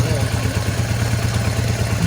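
A Honda XR80 motorcycle running at a steady, loud idle after a tune-up with a new carburetor, giving a close, continuous low rumble and clatter throughout.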